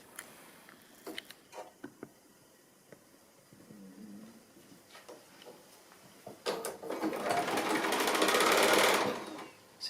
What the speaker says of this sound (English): And back to the sewing machine.